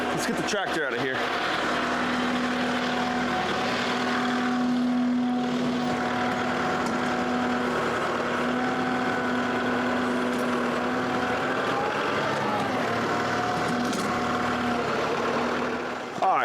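A tractor's diesel engine runs steadily with a low, droning hum and a constant tone while a diesel tank is moved, close by and loud throughout, with people talking over it at times.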